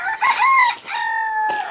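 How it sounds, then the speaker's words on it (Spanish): Roosters crowing loudly and close by in the afternoon near an underground cave site in Seville, Spain, with two overlapping drawn-out crows and no talking. "Están cantando bastante los gallos, pero no es de mañana"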